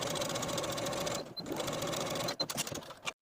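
A sewing machine runs a 2.5 mm straight stitch in steady close bursts, pauses briefly and then finishes with a few short stitching spurts. No one speaks.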